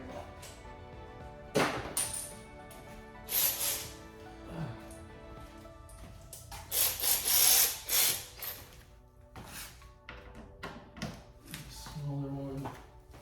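Hand and power tools work on a 2014 Volkswagen Passat 1.8-liter turbo engine while the gearbox is removed, giving scattered clanks, ratchet clicks and short drill-like whirs at close range, some loud bursts, with speech at times.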